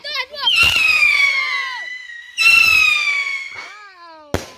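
Fireworks set off at home for a São João festival rise in two loud whistling, screeching bursts and then a sharp bang near the end, with excited voices around them.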